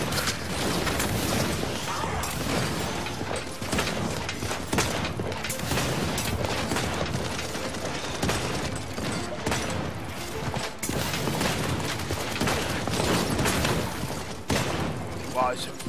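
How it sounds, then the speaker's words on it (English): Shotgun-like weapon fire in the game Paladins, heavy repeated blasts and mechanical clanks layered over constant battle noise, with a voice talking over much of it. "this weapon, it feels like a shotgun"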